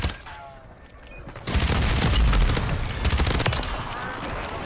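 Call of Duty Warzone gunfire, a quiet opening that breaks into loud, dense automatic fire with overlapping shots and bursts carrying on to the end, voices faintly mixed in.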